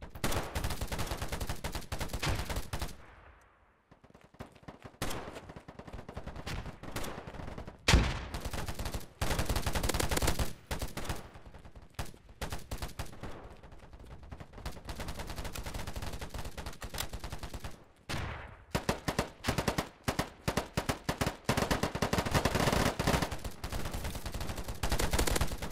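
Rapid gunfire and sniper shots in the shooter Polygon, with repeated loud bursts of sharp reports broken by short silent gaps over a sustained stretch.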